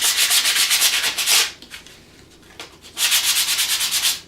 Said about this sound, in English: I am using 220 grit sandpaper to sand this